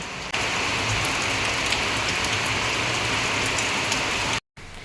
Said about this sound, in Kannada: ಈ ಥರ ಮಳೆ ಹೊಡಿತಾ ಇದೆ